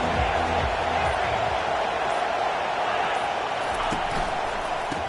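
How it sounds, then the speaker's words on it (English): Stadium crowd in College Football 25 during a Tennessee game, a dense steady roar of many voices filling the background, with a few faint thumps and no clear breaks. "This crowd trying to show them what it's going to be like all day in this house."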